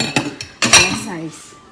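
Dishes, pots and cutlery clatter and clink close by in a sink during washing, a few sharp knocks followed by a louder jumble of metal and crockery that fades out.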